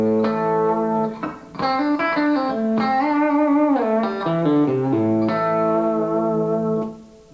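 An electric guitar with pickups combined out of phase for a hollow, thin tone: a melodic line of sustained notes, some bent, close and loud, with a brief dip midway and a fade at the end, no talk.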